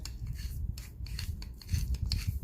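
Whole black peppercorns being ground by hand for salt and pepper wings, a close, quiet dry rasping and crunching in short repeated turns, with no talk.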